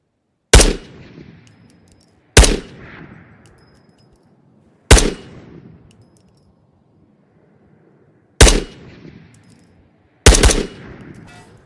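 Unsuppressed gunfire in the VR game Ghost of Tabor at 84 meters, five loud single shots spaced a couple of seconds apart, each ringing off in a long decaying echo.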